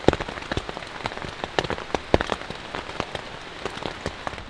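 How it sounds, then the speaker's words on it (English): Rain patters on the fabric of a one-person LiteFighter military tent, close and steady, with many sharp individual drop hits over a continuous hiss and no talking. "it's raining pretty good outside"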